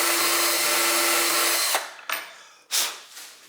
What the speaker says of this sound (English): So I'm gonna drill some pilots for the 2 brackets.